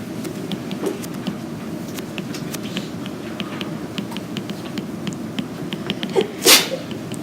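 A single sharp sneeze bursts out near the end against a quiet room with scattered light tapping and clicks.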